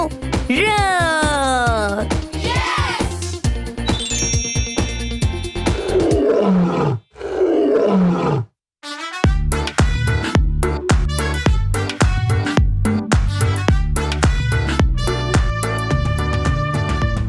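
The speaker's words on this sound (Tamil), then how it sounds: "சிங்கம் என்ன சொல்லுதுன்னு நம்ம கேட்கலாமா?" A lion roars in a children's animal-sounds song, heard as loud growling roars over bouncy music. Cartoonish vocal effects come between the roars, with a brief pause midway.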